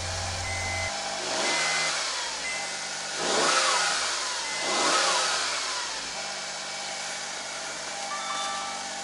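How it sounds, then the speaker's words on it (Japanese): A Honda S660 fitted with a BLITZ air cleaner idles in a residential street, its engine rising in three short revs before settling back to a steady idle, moderately loud and close with no talking. "でもう一度エンジンかけてみたいと思います"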